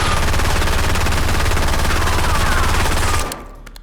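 Sustained full-auto burst from a gun in Warzone, rapid evenly spaced shots fired nonstop for about three seconds before cutting off, followed by a few trailing clinks.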